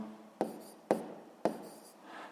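Writing down an answer by hand while working a sixth-grade maths exercise: three sharp, evenly spaced pen or chalk strokes tap and scrape close up in a quiet room, each with a short rasping tail.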